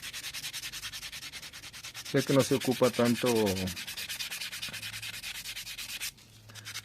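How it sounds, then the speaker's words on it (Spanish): Continuous rhythmic rasping of sandpaper rubbed by hand across a copper sheet, quick back-and-forth strokes, with someone briefly speaking over it. "aquí por ejemplo la lija puede ser así manualmente"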